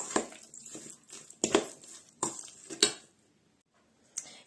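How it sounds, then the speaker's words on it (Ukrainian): Minced meat and breadcrumbs are stirred together in a bowl. Four or five close, scraping clatters come in short bursts, then it goes quiet near the end. "І добавимо паніровочних сухарів сюди. Так, перемішаємо."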